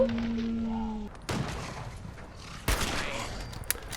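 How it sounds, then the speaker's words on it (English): Gunfire and a missile strike in the video game Fallout 4, a loud sustained barrage with heavy blasts punching through, continuous and close, while a tone fades out at the start. "Missile to the face."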